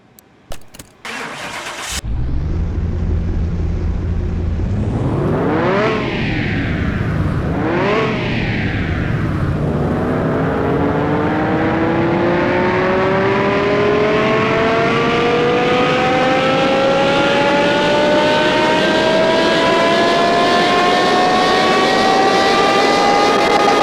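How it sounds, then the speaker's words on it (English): Simulated sports car engine from Car Mechanic Simulator 2021 cranks and starts after a few clicks, gives two quick revs, then climbs in one long, steadily rising wail that stays loud to the end, with no speech. "This is a sports car."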